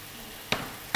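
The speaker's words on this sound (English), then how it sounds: "what's the reasoning behind frying the greens instead of boiling them" Greens sizzle in a frying pan, a steady soft hiss broken by two brief sharper crackles.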